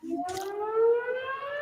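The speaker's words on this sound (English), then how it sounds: "the siren again." A single siren sounds alone as a steady harmonic wail with a slight rise and fall, following a brief noisy burst near the start, with no talk in the clip.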